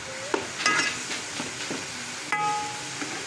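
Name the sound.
stirring and frying meat in clarified butter (ghee)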